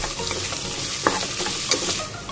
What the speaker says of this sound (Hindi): मीडियम प्याज बारीक कटा हुआ इसे भी बढ़िया तरीके से भून लेंगे